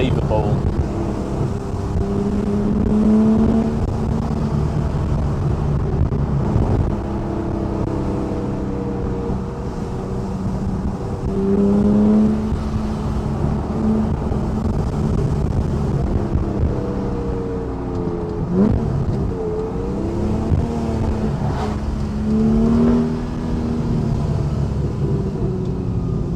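A Porsche 911 991.1 Carrera fitted with an Akrapovic titanium slip-on exhaust drives along, its engine droning and rising in pitch through the gears beneath someone talking throughout, with wind noise from open windows.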